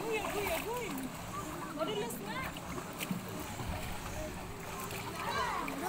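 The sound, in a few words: children swimming and splashing in water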